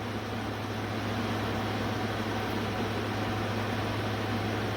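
A Danby 5,000 BTU window air conditioner runs with a constant, even broadband whoosh and a low steady hum, loud and unchanging throughout.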